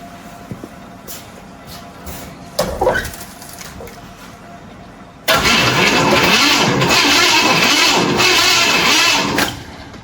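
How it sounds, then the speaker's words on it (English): An old classic car, long abandoned in the woods, has its engine cranked after a few faint clicks and a brief rumble. The starter then grinds loudly in a rapid, steady, pulsing churn for several seconds before cutting off. "She cranks. It ain't seized up."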